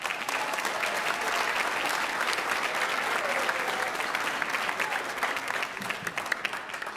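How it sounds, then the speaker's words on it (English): An audience at a school band concert applauds steadily and enthusiastically, a dense wash of clapping that holds evenly throughout. "Can we give Hunter a big round of applause"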